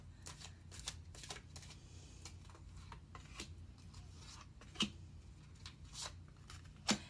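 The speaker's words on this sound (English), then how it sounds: "I always shuffle in front of you." Crisp, riffling card shuffles repeat in quick bursts, fairly quiet and close, with a couple of soft taps; nobody speaks.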